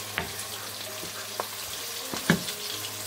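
Tomato and garlic paste sizzles in a hot pan for a pasta sauce, a steady low frying hiss with a few soft stirring knocks and clinks, close and alone without talk.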